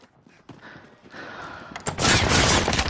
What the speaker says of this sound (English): Got shot out from the window.